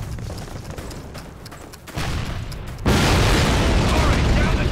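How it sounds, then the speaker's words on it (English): A cannon explosion in the Call of Duty video game builds from battlefield noise into a heavy, sustained booming roar that grows louder in stages, with a voice talking over the din. "This cannon's about to go boom."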